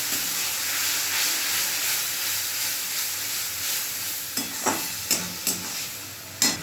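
Spice masala being stir-fried in a pan for an egg and paneer curry: a steady broad sizzle that dies back slightly, then a run of sharp scraping stir strokes near the end, with no voices.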